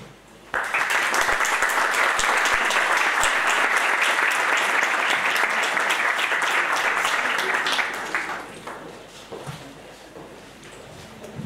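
A lecture audience bursts into sustained applause welcoming Professor Frederick Schauer to his 2014 talk "Thinking Like a Lawyer," loud dense clapping lasting about seven seconds before thinning into scattered claps and room noise.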